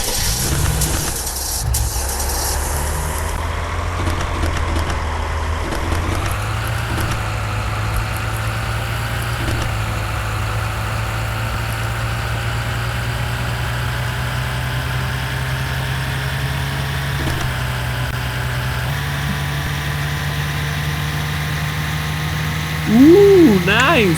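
A simulated car engine from a Scratch McLaren driving game runs as a steady, loud idle hum throughout, with a brief rising rev near the end and faint speech-like sounds mixed in.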